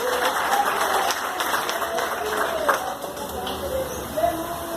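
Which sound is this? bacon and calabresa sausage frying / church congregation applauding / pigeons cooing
church congregation applauding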